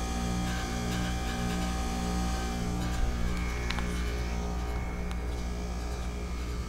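A 2008 Goodman packaged heat pump runs outdoors in defrost with a loose fan grill, giving a steady droning hum and buzz with faint rattling ticks layered over it, loud and continuous.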